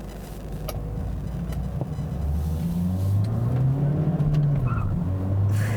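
A 2017 Chevy Cruze turbodiesel with a six-speed manual drives on a wet road, heard from inside. The engine drones low and steady while the pitch climbs through the gears, with a hiss of tyre spray throughout.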